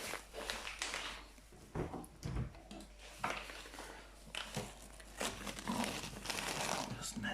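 A plastic bag holding a Honda Civic front ball joint crinkles and rustles close by in irregular quiet bursts, with faint handling knocks between them.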